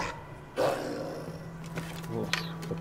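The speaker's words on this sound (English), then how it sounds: "Uh-oh, sounds like wolves." Wolves in the Assassin's Creed Valhalla video game give low growls and a rising howl-like cry, fairly faint game audio against a steady hum.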